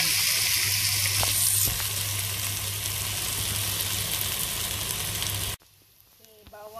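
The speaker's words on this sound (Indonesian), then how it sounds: "Tumis sampai naik bau ya" Dried chillies sauté in a pan for an Indian-style chilli chicken, producing a loud, steady sizzle up close for several seconds before it abruptly drops to a quiet room with faint sounds.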